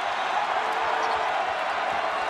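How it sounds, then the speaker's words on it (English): A basketball crowd in Omaha rises and cheers at a college game, a broad, steady roar heard from a distance at moderate volume without clear breaks. "Crowd to its feet here in Omaha."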